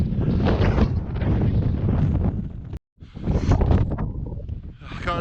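Strong, gusty wind buffets the microphone on a mountain in Snowdonia near Marchlyn Reservoir, roaring loud and continuous with a brief sudden dropout midway before the blustery rush returns.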